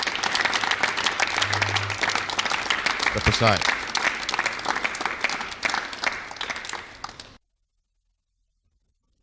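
Audience applause for a contestant at a national-level competition event in Abuja, dense clapping filling the hall for about seven seconds with a brief spoken word over it, then cutting to silence.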